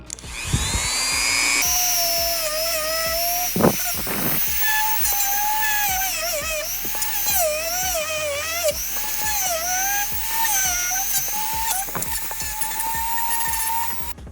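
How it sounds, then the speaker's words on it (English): A power tool grinds down a leftover chunk of plastic inside a Razor MX650 seat, a loud steady high-pitched whine that wavers in pitch with short pauses and bursts as the bit bites into the plastic, close up and alone. "there's still a little chunk of plastic that I gotta grind down"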